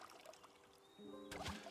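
In the Hokko Life video game, water trickles and pours as plants are watered, a soft, faint splash alongside a few short tonal game chimes.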